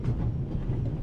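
A moving train in the adventure game The Raven Remastered: a steady, low rumbling hum of the carriage rolling along, continuous and even throughout with no distinct clacks standing out.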